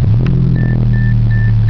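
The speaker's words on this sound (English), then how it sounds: "You can hear that exhaust." The engine and exhaust of a 1998 Mercedes-Benz SLK230 run with a loud, steady low rumble heard up close, and the sound holds constant throughout.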